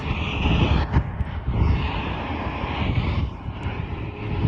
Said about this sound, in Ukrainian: включились двигуни, і від двигунів завжди є один вітер